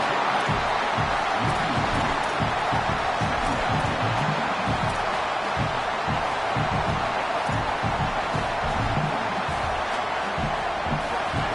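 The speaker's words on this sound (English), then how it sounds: "This crowd even louder now on second down as they try to hold on." Loud, continuous college football stadium crowd roar on second down, a dense wash of voices that stays steady without letup throughout.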